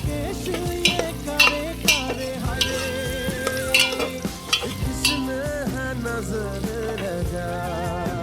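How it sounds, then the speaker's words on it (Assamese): Chopped potatoes fry with ginger-garlic spice paste in a pan, a steady sizzle broken by repeated scrapes and clinks of a spoon stirring, close and without talk. "আৰু এইখিনি মছলাৰ লগত ভালকৈ ভাজি ল'ম।"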